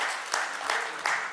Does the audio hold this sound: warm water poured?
no